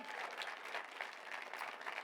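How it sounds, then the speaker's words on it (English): Steady audience applause at a campaign event in a Chicago college hall, a continuous wash of many hands clapping at moderate volume with no voices rising above it. "Another round of applause for her."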